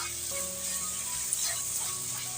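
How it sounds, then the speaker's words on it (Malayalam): Leftover idli pieces tossed with tomato sauce are stirred in a pan, producing a quiet even hiss of frying with a single faint tap, close by and with no talking. "ഇനി ഒന്ന് ഇളക്കി കൊടുക്കാം"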